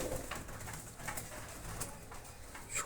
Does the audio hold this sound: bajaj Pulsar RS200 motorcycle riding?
no